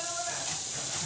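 A pressure cooker on a home kitchen stove gives off a continuous loud hiss of steam for the whole short moment.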